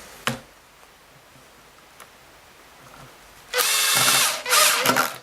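A power driver runs a screw back into a Kirby Avalir vacuum, with two short, loud whirring bursts near the end after a quiet stretch with a few small clicks.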